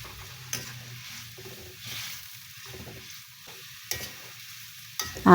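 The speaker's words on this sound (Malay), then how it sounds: "tumis bawang tadi semua, cili kering tadi ya." A dried chili and onion paste sizzles softly in a pan while a utensil scrapes and stirs it, with a few sharp knocks against the pan.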